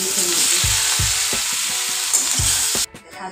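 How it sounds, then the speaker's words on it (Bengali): Potatoes frying in a hot pan: loud, continuous sizzle with rhythmic stirring and scraping strokes about every half second, ending abruptly as the frying quiets. "হ্যাঁ এখন আলুগুলো দিয়ে দিচ্ছি"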